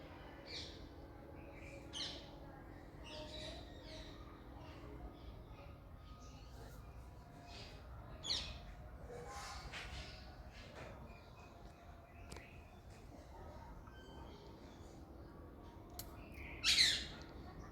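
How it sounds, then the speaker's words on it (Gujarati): Faint, distant bird calls scattered through a quiet outdoor scene, with a sharp, louder parrot squawk near the end. "ઉપર એક પોપટ બી આવી ગયો છે મસ્ત મજાનો અવાજ એટલું બધું કરે છે"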